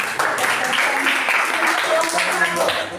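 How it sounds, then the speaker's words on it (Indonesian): A classroom full of students claps steadily for a few seconds, dense and continuous, with faint voices mixed in. "kita beri tepuk tangan sekali lagi untuk teks cerpen."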